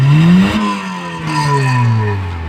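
A Honda City with a 1500cc engine fitted with a hydrogen kit revs in a steady, loud rise and fall, close by, with a clattering idle under the revs and no talk.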